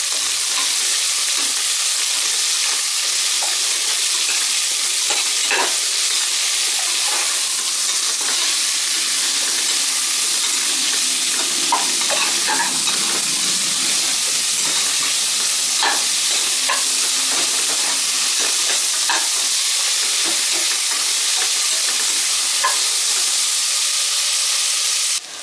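Onions sautéing to golden brown in a village-style field gram rice preparation give a loud, constant frying sizzle, punctuated by scattered stirring clicks and scrapes throughout, with no talking.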